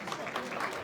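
Applause at an independence gala for the Beninese community, a crowd clapping steadily in a large room, moderately distant and continuous through the short moment.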